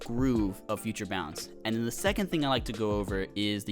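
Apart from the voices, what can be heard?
No distinct noise like a dog, phone or traffic.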